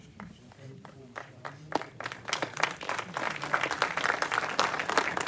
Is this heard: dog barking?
no